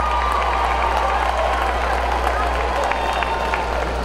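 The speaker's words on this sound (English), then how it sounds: "ladies a round of applause, everyone" A crowd in a gym claps and cheers after a high school boys' all-star basketball game, loud and continuous, with a low hum beneath the applause.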